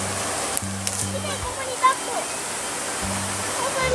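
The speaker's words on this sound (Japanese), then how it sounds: "噴水があるよ。" A park fountain sends up a steady, even rush of splashing water that carries on throughout, with brief low hums and faint knocks in the background.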